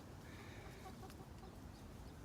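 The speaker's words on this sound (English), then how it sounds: "I hear the chickens do their little egg call back here" Hens clucking their egg call somewhere back near a nest, a steady busy murmur of close clucks over continuous farmyard background.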